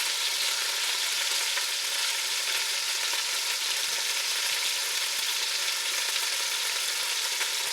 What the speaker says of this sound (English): I do this so that it doesn't start cooking. It has to sear.